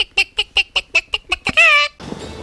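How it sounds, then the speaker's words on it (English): A chicken cackling close and loud: a run of about eight quick, evenly spaced clucks that climb into one drawn-out squawk, then a short fade into quiet room noise. "when Bok Bok cackles like that, it's time for Calliope's Thought of the Day"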